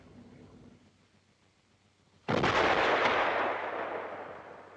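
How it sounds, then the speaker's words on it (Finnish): A T-55 tank's main cannon fires a single loud shot after a quiet stretch, a sudden broadband blast that booms and then decays slowly over a couple of seconds, with no voices. "Panssarivaunun tärkein ase on tykki, joka ampuu 5–10 laukausta minuutissa"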